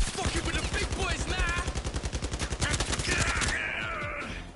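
Rapid automatic assault rifle fire in the VR shooter Blood and Truth, loud close bursts of evenly spaced shots running for several seconds, with a brief burst of game music or effects near the end.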